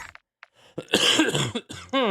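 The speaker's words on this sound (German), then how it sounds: "Wobei ich bin ja eh nur am Husten" A few short coughs from a person, spaced apart at first and then a denser burst of throat-clearing coughs, close and fairly loud, during a Call of Duty Modern Warfare II campaign session.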